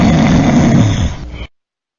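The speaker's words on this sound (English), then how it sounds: "The snoring comes from the vibration of the soft palate at the back of the mouth and the uvula" A person snores, the soft palate and uvula vibrating at the back of the mouth, giving a loud, close, rough rattling breath that fades and cuts off to silence after about a second and a half.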